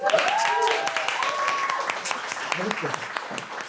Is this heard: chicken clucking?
no